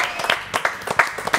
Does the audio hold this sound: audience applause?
yes